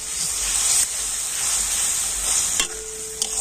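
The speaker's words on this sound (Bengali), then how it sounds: "আর এবার আমি সমস্ত মশলাগুলো একটু ভালো করে কষে নেব" Spices with ginger-garlic paste and a splash of water sautéing in a pan, a continuous close hissing sizzle with faint stirring scrapes, alone without talk.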